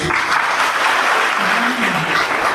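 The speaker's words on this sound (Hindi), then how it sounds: "उस पर तालियां तो ज़रूर बनती हैं जो आपने बजाई" An audience at a mega job fair gives a round of applause after a speaker, a loud, steady wash of clapping with a faint voice murmuring underneath.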